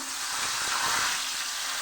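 Bay leaves fry in hot mustard oil in a kadai, making a dense, even hiss and crackle that holds steadily close by without any voices.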